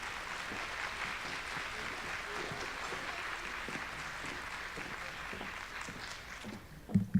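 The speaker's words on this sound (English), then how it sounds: "if y'all could give her a big round of applause" An audience at a Go Red luncheon welcoming Janine Turner with steady, distant applause that holds for several seconds before fading, followed by a few close bumps near the end.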